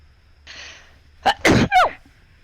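A single sharp sneeze, with a quick inhaled build-up and then loud explosive bursts, close to the mic over a faint background hum.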